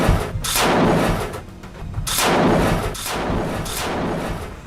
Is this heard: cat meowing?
no